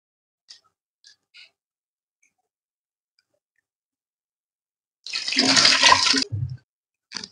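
Rice being washed by hand in a bowl of water for Maharashtrian matar (green pea) rice: a few faint clicks, then about a second and a half of close swishing, sloshing water, followed by a short splash and a final drip.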